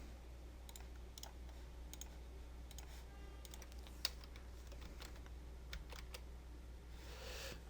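Computer keyboard arrow keys are tapped in scattered single and clustered clicks while working in Adobe Photoshop, quiet and close over a steady low electrical hum.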